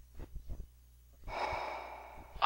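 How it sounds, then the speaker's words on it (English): Snake from the Metal Gear Solid video game breathing, a few short close breaths and gasps followed by a longer heavy exhale with airy hiss. "I knew you could hear a snake breathing"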